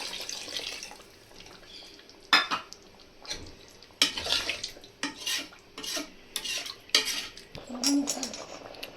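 Mutton biryani broth with coconut milk stirred in a metal pot, giving scattered scraping and clanking knocks against the pot over a low, wet background.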